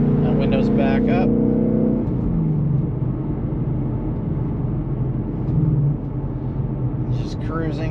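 Ford Mustang 5.0 with a resonator delete cruising, heard from inside as a low, mellow exhaust rumble that swells and eases slightly, with a person talking over it near the start and end.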